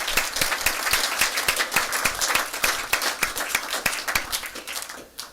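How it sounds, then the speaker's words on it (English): A small group applauds JJ at a school district board of education meeting, with individual claps clearly audible in a lively, moderately dense patter that fades at the end. "can we give a round of applause to JJ?"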